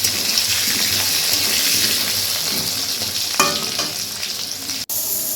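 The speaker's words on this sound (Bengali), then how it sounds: "আর একটু হলুদ দিয়ে আলুটা ভালো করে ভেজে নেব" Potatoes sizzle steadily in hot oil seasoned with salt and turmeric, a continuous bright hiss close by, with a few stirring clicks and scrapes near the end and no talking.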